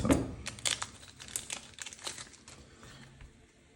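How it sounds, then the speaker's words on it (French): Crinkling, snipping sounds come from a One Piece card booster pack being cut open with scissors, close and fairly quiet, with a few sharp crackles early that fade toward the end. "C'est un peu chiant, il faut ouvrir ça au ciseau."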